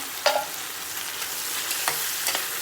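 Cooked dal tempered with spices and coriander in hot oil, producing a loud, close, continuous sizzle with a few sharp stirring clinks and scrapes, with no voices.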